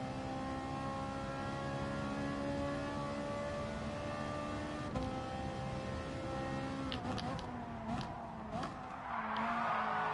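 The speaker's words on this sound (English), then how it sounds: "Didn't brake enough, that's why I'm sliding." Car sliding with tyres skidding in the GT Sport racing video game: a sustained engine drone with harmonic whine, then a burst of squealing tyre noise and scrubbing near the end.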